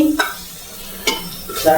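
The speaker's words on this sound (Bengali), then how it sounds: "ভাজছি" Food frying in a pan in a home kitchen: a steady low sizzle with sharper bursts of stirring and scraping near the start, middle and end, close and moderately loud, with no talking.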